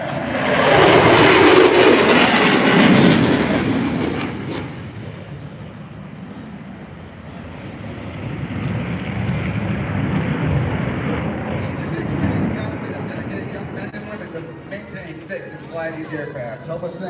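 A Boeing F/A-18 Super Hornet roars past at an airshow, loud jet noise swelling early then easing into a long broad rumble, with an announcer talking over it.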